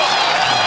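Loud, dense applause from an audience at an online general assembly, a steady wash of clapping filling a brief moment with no break.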